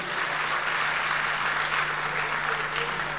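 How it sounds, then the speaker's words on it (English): Steady, dense applause from an audience at a National Democratic Congress app launch event, continuous and fairly loud throughout, with faint voices mixed in. "Please clap for yourselves."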